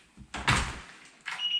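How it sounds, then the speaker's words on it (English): The door to a garage in a house opens with a brief close knock and rattle, then a short scraping swish, faint and over within a couple of seconds, with no voices. "The other door here is for access to the garage"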